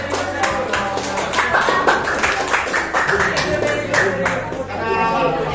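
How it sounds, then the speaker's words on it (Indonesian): A school coding class applauds, with many hands clapping in a dense, steady patter that runs throughout, mixed with scattered voices and chatter from the room. "Silakan beri tepuk tangan deh ke"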